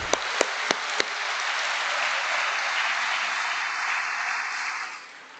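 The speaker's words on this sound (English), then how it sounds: "So I think we should have a big round of applause for Zulf," Sustained audience applause fills an awards ceremony in a town hall, opening with a few sharp isolated claps before the full crowd joins in, holding steady and loud for several seconds, then tapering off near the end.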